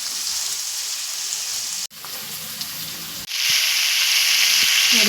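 Onion and chana dal sizzle in hot oil in a pan, a loud continuous frying hiss that drops sharply twice, as if the pan is briefly disturbed, then swells louder again.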